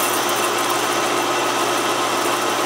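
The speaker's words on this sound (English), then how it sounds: "Bogged the lathe down a little bit, but no other hesitation." A metal lathe on auto feed cuts a 1.25 inch bar, giving a steady, close, dense whirring hiss with a constant machine drone and no breaks.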